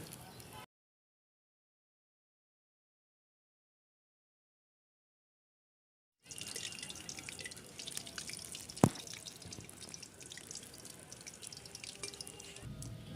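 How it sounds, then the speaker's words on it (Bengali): Chicken chops made with soybean and dipped in gram-flour batter fry in hot oil. After a silent gap, a steady close sizzle takes over, broken once by a single sharp knock. "এবারে আমি ভাজবো চিকেন চপ।"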